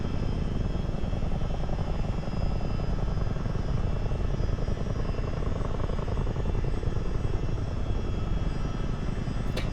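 A CH-47 Chinook twin-rotor helicopter in Microsoft Flight Simulator hover taxiing, a loud, steady, dense rotor drone and engine roar filling the whole stretch without a break.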